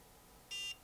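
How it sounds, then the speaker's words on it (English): One short electronic beep from a NuFace Trinity facial toning device, clear but soft, over a quiet background. "it beeps to tell you to move to position 2"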